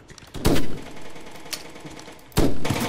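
Gunfire in the video game Brick Rigs, with three loud, separate shots spaced irregularly. Each shot is a sharp blast that fades quickly, and a low background rumble runs between them.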